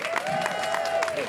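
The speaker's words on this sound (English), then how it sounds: "A big applause for Surge San Diego" Brief burst of crowd clapping and cheering at an outdoor rally against ICE in San Diego, with a sustained whistle or tone cutting through the applause.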